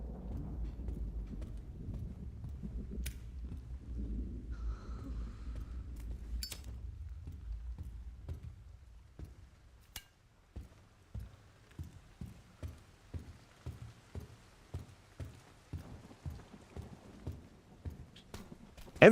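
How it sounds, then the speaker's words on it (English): Heavy, loud footsteps of a character in the horror game Resident Evil Requiem, a regular series of distinct thuds that emerge after a low rumbling stretch and continue at a steady walking pace. "Actually sounds like she's stomping."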